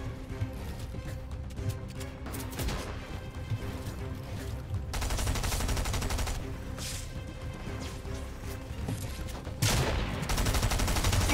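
Gunfire in a Fortnite match, dense bursts of rapid automatic shots and sharp single cracks repeating throughout, loud and close, with no talk over it.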